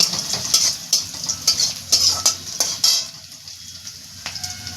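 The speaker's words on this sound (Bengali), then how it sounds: "দেখো দেখছো একদম ভেজে নিচ্ছি কি সুন্দর" Ingredients for veg dal frying in a pan while being stirred, a bright crackling sizzle punctuated by repeated clinks and scrapes of a spoon against the pan, quieter and sparser toward the end.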